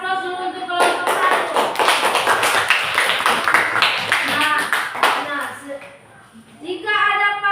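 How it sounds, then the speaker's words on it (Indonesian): A classroom of students claps for a presenting group, a loud burst of rapid, close hand claps that builds, holds for several seconds and then fades, with children's voices heard before and after. "Oke, berikan aplaus dulu untuk kelompok 1."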